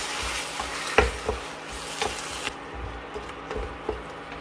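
Prawns are stirred with coconut milk in a pan for a butter-milk prawn peralan, a moist bubbling hiss with soft scrapes and knocks of a spoon, close and unaccompanied by talk.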